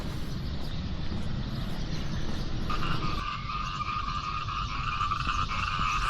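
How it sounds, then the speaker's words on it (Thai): Frogs croak at dawn in Vientiane during an early morning walk near Patuxai and the morning market, a steady dense chorus of calls over continuous background noise, with a brighter trilling layer joining partway through. "ฟังเสียงกบห้อง"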